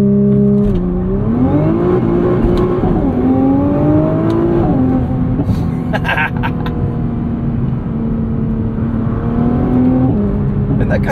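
A 2023 Nissan GT-R Premium doing a launch start on an open road, heard from inside: a loud, steady engine drone rising in pitch through quick gear changes, with faint talk underneath.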